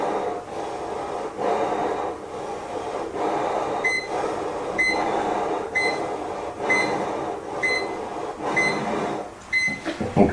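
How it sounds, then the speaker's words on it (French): Formaldehyde detector alarm going off while someone breathes in and out through a mask, repeated electronic beeps over steady breathing noise, close and fairly loud. "vous entendez une alarme qui se met en route"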